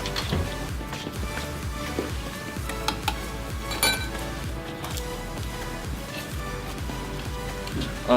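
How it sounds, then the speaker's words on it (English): A fork stirs and scrambles eggs into a mixture in a bowl, making steady, rapid clinking against the sides under a continuous busy background. The clinks repeat densely throughout, with a slightly louder knock near the end. "we're gonna have to stir it really well to make sure that they are all scrambled"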